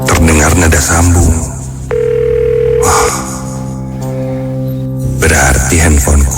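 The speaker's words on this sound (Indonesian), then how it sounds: "terdengar nada sambung." A mobile phone call rings back on a borrowed handset, with steady electronic tones that come in long held pulses separated by pauses, loud and near, while music and a voice play around them.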